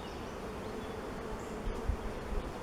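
Honey bees hum close around an open beehive in a dense, steady drone that holds at an even level throughout and is heard alone.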